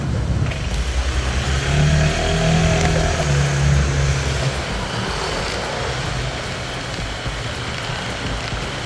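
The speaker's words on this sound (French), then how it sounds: "je vais faire visiter un peu la Thaïlande en scooter" Riding a scooter through the narrow streets of Pattaya, Thailand: a close engine hum rises and falls with acceleration over steady road and wind noise, no one speaking.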